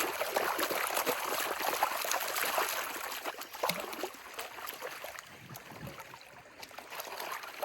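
Gravel swirling and sloshing in water in a gold pan outdoors, continuous close splashing and trickling with rattling stones throughout.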